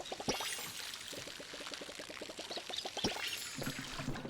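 Game character watering plants with a steady run of liquid pouring sounds, repeated soft splashing pulses close by, with light game ambience underneath and no talking.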